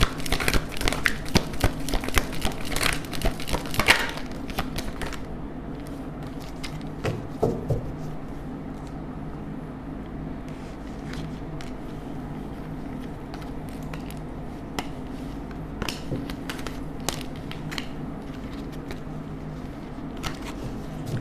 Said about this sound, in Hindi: एक ही शफल करेंगे, जिसको भी आना आ जाएगा